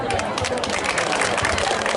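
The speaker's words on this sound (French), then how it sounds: "Applaudissez pour lui." Dense, continuous applause from an audience at a diploma graduation ceremony, steady and fairly loud throughout with a faint murmur of voices beneath.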